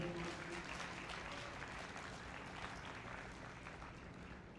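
An audience at a stage hypnosis show gives a sustained round of applause, a dense, even wash of clapping that tapers slightly toward the end, heard from a distance.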